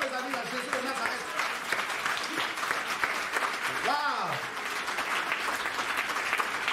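A church congregation claps and cheers in praise during a service in Geneva, a dense steady wash of applause with shouts, and a loud swooping whistle or cry rising above it midway.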